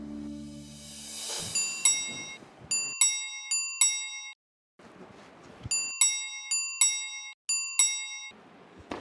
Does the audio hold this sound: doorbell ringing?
yes